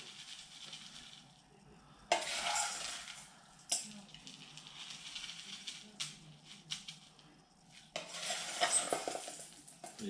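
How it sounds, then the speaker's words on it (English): Soil is scooped and poured into a lemon tree bonsai pot to bring it up to the lip, heard as bursts of gritty rustling and scraping in several pulses, close by, with no talk. "we'll just put more soil to get to the lip of the pot"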